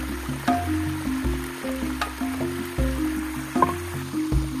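A plucked chicken being washed by hand in a forest river, with close, irregular splashes, squelches and drips over the steady flow of the stream.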